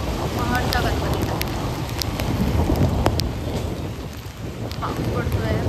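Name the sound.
rain falling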